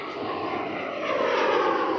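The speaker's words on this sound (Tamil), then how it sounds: "மூன்று ஃப்ளைட்ஸ் வருது மூன்று ஃப்ளைட்ஸ் தெரியும்" An airplane passes over an airport with a loud, close, continuous engine roar that swells toward the end, with no voices.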